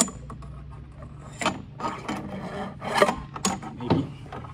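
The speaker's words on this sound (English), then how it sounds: "And then we'll run our line through the stanchion." A lifeline rope being pulled through a stanchion on a 1984 Chris-Craft Catalina 381 boat gives close, uneven rasping and rubbing scrapes in several short bursts over a quiet background.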